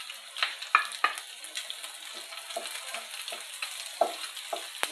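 Garlic sizzles in a pan for pork Bicol Express, a close crackling fry with repeated spatula scrapes and taps against the metal at an uneven rhythm, with no voices.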